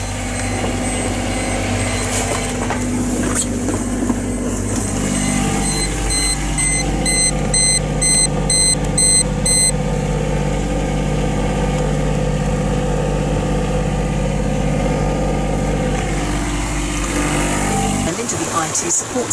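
Sailboat's inboard motor runs steadily while motoring between Portland and Dartmouth, a constant low drone with a series of electronic alarm beeps partway through and a voice speaking over it.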